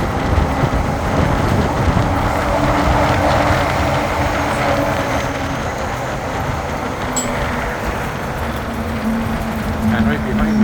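A train rolls past on nearby tracks beside a Montreal city bus route near the Point St. Charles rail yard, a continuous loud rumble with rhythmic rolling noise, mixed with bus and street sounds.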